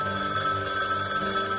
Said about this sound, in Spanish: en la madrugada sonó el teléfono